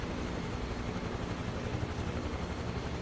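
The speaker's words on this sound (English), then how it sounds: "I can actually fly the helicopter like this." A helicopter flying in Microsoft Flight Simulator 2024 over the rugged Papua New Guinea Highlands, its rotor and engine a steady, even roar with no talking.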